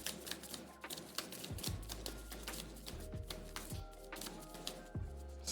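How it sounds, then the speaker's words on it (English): Decks of playing cards for the board game World Order shuffled by hand at a tabletop, with bursts of riffling and clacking cards repeating several times, close and fairly quiet. "I got to shuffle their decks."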